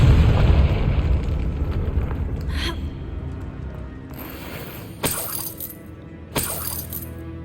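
A Confringo spell explodes in Hogwarts Legacy gameplay, a loud booming burst that rumbles and fades, followed by two sharp crackling pops.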